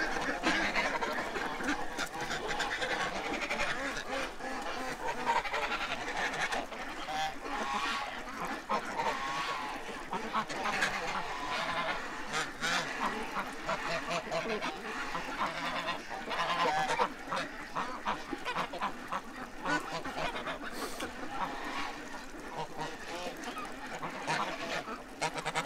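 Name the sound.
geese honking and fighting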